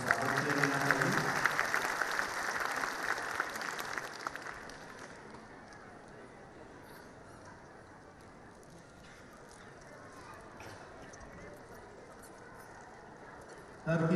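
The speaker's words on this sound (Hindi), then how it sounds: "एक बार जोरदार तालियों के साथ सबका स्वागत किया जाना चाहिए" An audience at a school annual function claps loudly for about four seconds, then the applause fades into a quieter murmur of room noise that lasts to the end.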